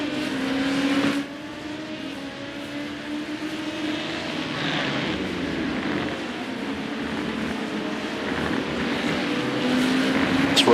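An IMSA race car circles Le Mans, heard from onboard as a sustained engine roar that rises and falls through gear changes and corners, with no talk over it.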